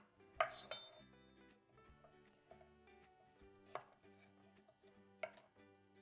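A knife cutting the stem ends off carrots on a board: a few sharp, irregular chops and clicks, quiet and close, with faint clinks between strokes and no talking.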